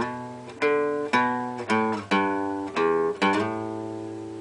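Acoustic guitar playing the riff from a song slowly, a handful of plucked notes and ringing chords with short slides, close and clear with no talking.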